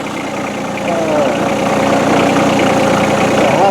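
Tractor engine idling close by on a farm, a steady loud rumble that swells slightly after the first second and holds even to the end.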